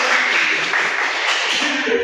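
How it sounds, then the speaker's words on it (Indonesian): A classroom of elementary school students claps for a classmate, a dense burst of applause lasting about two seconds, loud and close, with no talking over it. "tepuk tangan dulu untuk Dilan"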